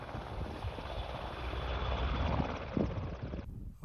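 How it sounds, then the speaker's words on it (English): A military helicopter flies up a valley, its rotor thump and turbine whine forming a steady, moderately distant drone that swells slightly before the sound cuts off, with no talking. "I was disturbed by a military helicopter that flew up the valley beneath me before turning around and heading off again"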